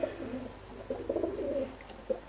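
Racing pigeons give repeated throaty coos close by, several low rolling phrases in a row with short gaps, and no voices present.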